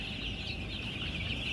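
Chicks on their sixth day in a low-cost brooder with feeders and drinkers, peeping in a steady, dense high-pitched chorus that runs throughout without pause.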